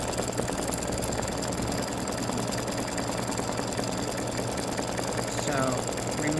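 An embroidery machine stitches a Christmas ornament with a steady, continuous mechanical whir and rapid needle rhythm throughout, close and even in level.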